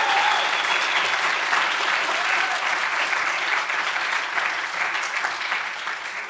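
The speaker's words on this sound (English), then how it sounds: "can everyone give Julia a big round of applause" Dense audience applause fills the whole stretch, a steady wash of many hands clapping at close range, holding level and easing slightly toward the end.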